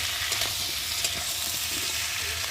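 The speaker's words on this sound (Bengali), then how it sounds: "আর এখন দিয়ে দেবো আমি এখানটায় রসুন জিরে আদা বাটা আর কুচে রাখা একটা টমেটো একটু ভালো করে মিলিয়ে দেবো" Garlic, cumin, ginger paste and chopped tomato frying in hot oil while being stirred for a restaurant-style egg curry, a steady close sizzle with soft scraping stir strokes throughout.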